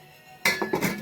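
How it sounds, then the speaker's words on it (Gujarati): A lid placed on a cooking pot while steaming Gujarati khichu, a quiet rustle followed by two sharp metallic clanks close by, ringing briefly and then fading, with no talking. "હવે ઢાંકણ ઢાંકી દઈએ આનો."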